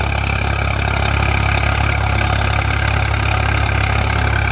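A tractor's diesel engine idles continuously nearby, a loud, steady low throb with a rough knocking texture and no talking.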